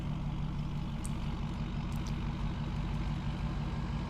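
Ford F-450 pickup truck engine held at full throttle in Farming Simulator 19, a steady loud drone with a deep low rumble that runs unbroken throughout, with no talking.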